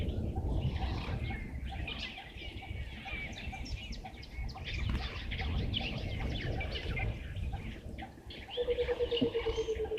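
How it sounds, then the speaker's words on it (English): A cuckoo calls at a wildlife waterhole amid a busy outdoor soundscape of several birds cooing and chirping, with a low rumble of ambient noise throughout and no voices. "What a cuckoo that I could hear calling."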